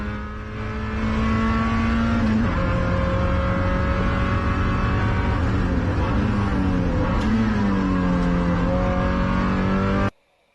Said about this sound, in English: Hits the revs, gets the revs back up.